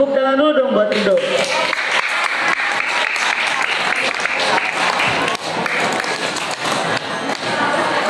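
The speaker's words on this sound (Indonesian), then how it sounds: "Tepuk tangan dulu dong buat Rido." An audience claps for Rido at a talk on healthy living, a loud sustained burst of applause that starts after a brief spoken word and continues steadily throughout.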